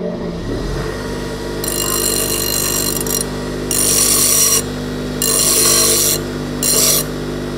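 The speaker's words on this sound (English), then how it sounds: "I'll give this a bit of a touch up here on the little bench grinder" A small bench grinder dresses a steel tool in a workshop, its steady motor hum overlaid by four bursts of bright, hissing grinding as the steel is pressed against the wheel, each lasting about a second.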